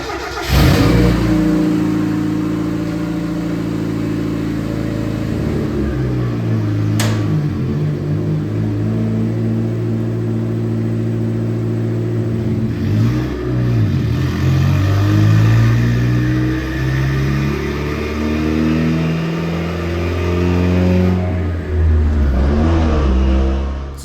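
A 1.6-liter turbocharged Mazda Miata drift car runs on a dyno, its engine idling and revving repeatedly. Loud, close harmonic engine tones rise and fall, with no talk over them.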